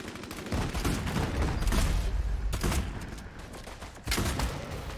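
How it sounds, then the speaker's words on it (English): Shotgun fire in the Bloodhunt video game: loud, booming shots and bursts come close together across the stretch, with one sharp, heavy blast near the end. "Shotgun's kind of fucking good."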